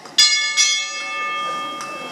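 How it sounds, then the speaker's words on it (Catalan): A small church bell rings with bright metallic strikes, two sharp hits early and a softer one later, each leaving a long sustained ring that fades slowly, close and fairly loud. "la campaneta tocava cel cel"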